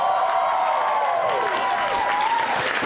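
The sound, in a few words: concert audience applause and cheering for a band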